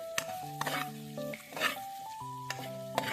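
Turmeric hits hot oil in a pan for an eggplant fry, giving a steady close sizzle with a few sharp scrapes and clinks of a spoon, while a sustained tonal hum runs underneath.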